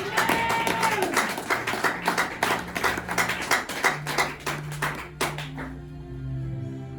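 Church congregation clapping together in a rhythmic, loud burst of acclaim for the Lord, with voices mixed in, easing toward the end.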